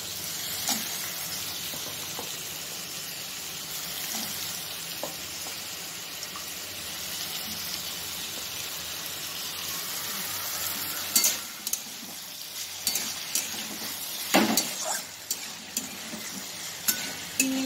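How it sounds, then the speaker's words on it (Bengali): Papaya and potato fry in oil seasoned with whole cumin for a Bengali vegetarian papaya dalna, a steady low sizzle running throughout, with sharper scraping and clattering stir strokes toward the end. "আর গোটা জিরে আমি ফোড়ন দিয়েছি, আর পেঁপে আর আলুতে একটু ভালো করে কষে নেব"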